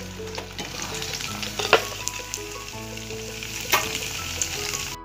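Beef pieces frying in hot oil for a beef fry give a steady, close crackling sizzle, with occasional sharper pops and utensil clinks rising above the continuous hiss.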